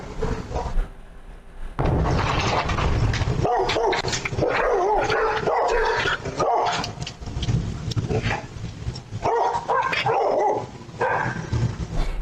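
Several dogs bark, yip and whimper loudly and excitedly in a near-continuous burst, with the barking carried through playback of a recorded clip.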